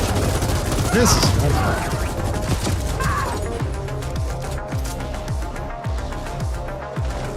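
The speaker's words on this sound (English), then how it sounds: "Hear gunfire." Turret gunfire in the sci-fi shooter game The Ascent, bursts of rapid shots and impacts sounding through dense game music and effects, with someone talking over the action.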